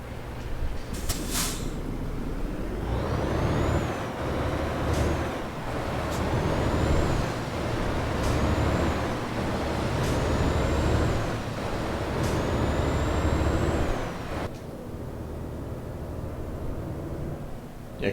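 In Euro Truck Simulator 2, a Volvo FH 2012 truck with a 4x2 chassis hums along with a low engine drone, broken by several sharp hissing air brake releases at intervals, with no talk.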